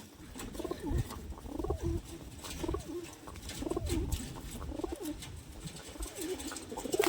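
Pigeons coo softly and repeatedly nearby, low throaty calls rising and falling in an uneven rhythm against faint background noise.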